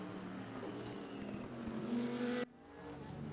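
Race cars lap Bathurst circuit in a racing video game, a sustained engine drone rising in pitch as it accelerates, then cutting abruptly to a quieter hum.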